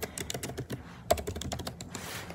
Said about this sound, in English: I'm going to type my name